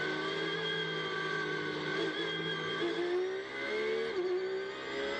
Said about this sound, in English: And as the field accelerates away at the end of the safety car period